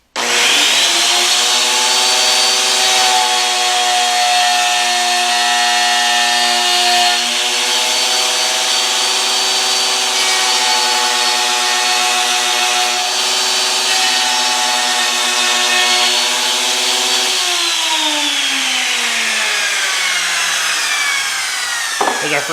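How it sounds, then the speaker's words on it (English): A loud router cutting decorative edges into wood, a sustained high whine with a steady tone that holds for about twenty seconds, then drops as the bit winds down. "I'm gonna try to do some decorative routing"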